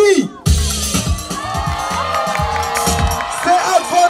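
A breakdance battle audience cheers and whoops in a lively crowd roar beneath pounding music, while an announcer talks over the noise.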